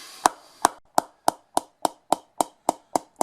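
A finished cricket bat, freshly knocked in, is tapped ten times in a steady, evenly spaced rhythm, each sharp woody knock close and clear against near silence.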